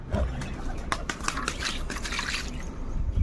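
Water splashes and trickles as it is poured into a rusted container, with steady background noise throughout.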